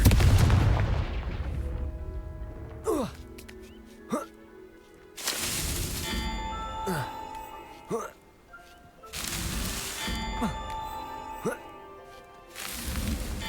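Confringo explosive spell cast in the video game Hogwarts Legacy, a series of whooshing blasts and booming bursts repeating several times over a rumbling game soundscape, with a voice calling the spell.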